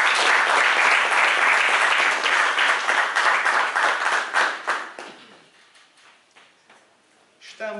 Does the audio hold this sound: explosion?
no